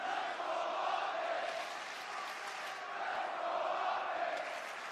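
An esports crowd at a Call of Duty match broadcast cheers as a steady, dense roar of many voices, filling the space evenly and moderately loud throughout.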